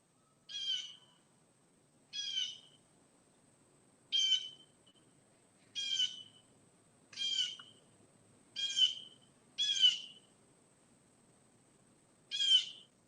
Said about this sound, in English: I heard the bird.